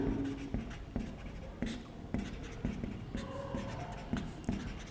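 Chalk taps and scrapes across a board during a Class 12 physics lesson on Gauss's theorem, with short strokes repeating in a regular rhythm at close range and no talk over them.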